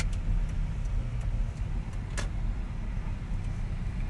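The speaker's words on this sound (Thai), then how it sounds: "เดี๋ยวเลียวเข้าไปจอดรถก่อนนะครับ" A car turns in and pulls into a parking spot beside a roadside grilled-chicken shop, its engine and road noise a steady, loud rumble at close range with a few faint ticks.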